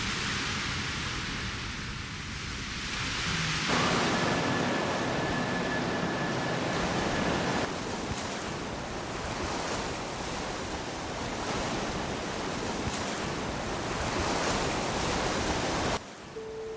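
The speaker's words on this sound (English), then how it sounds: "you can listen to the music of the waves" Ocean surf rushes in a broad, continuous wash, swelling louder partway through and holding steady, with no voices, before cutting off abruptly near the end.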